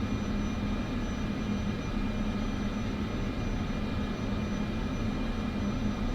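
Cessna Grand Caravan turboprop taxiing at low idle in Microsoft Flight Simulator 2024, a steady, even engine drone with a low hum that holds constant throughout, no voices over it.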